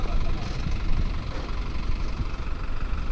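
A tractor engine hums and chugs steadily at a distance, a low continuous drone with no clear changes in pace.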